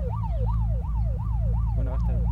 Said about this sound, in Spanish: Están pidiendo la sirena.